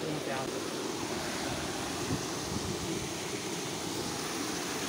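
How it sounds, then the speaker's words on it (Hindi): Water rushes steadily at a waterfall at Borwal, heard from very close as a broad, loud, unbroken roar with no breaks. "अब झरने के एकदम पास में आ गए हम"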